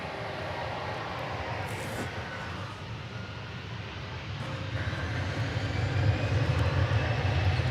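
Delta Airbus A319 airliner passing at DFW airport, a broad steady engine roar that swells toward the end, with no talk over it.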